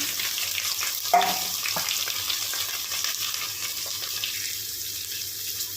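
Carrot, onion, fresh curry leaves and garlic for a soya chunk and coconut carrot curry fry in a pan, a steady near sizzle running throughout with a brief sharper clatter near the start and no voices.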